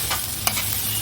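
Spice masala with coriander powder and salt sizzles steadily in a pan just after a splash of water is added, with a quick stirring scrape partway through.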